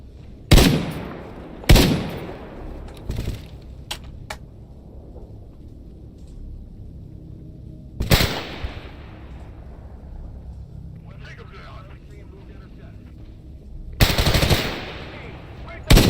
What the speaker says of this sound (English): the sound of gunshots is alluring